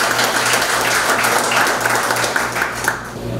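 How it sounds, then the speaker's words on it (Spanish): Audience applause at a 2018 research presentation event, a steady wash of clapping from a moderate crowd lasting a few seconds and fading slightly toward the end. "Lo recibimos con un fuerte aplauso."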